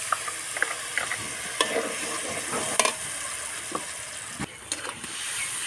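Mixed spices fry in oil for a prawn and pumpkin curry, giving a continuous sizzle broken by frequent clinks and scrapes of a spoon stirring in the pan.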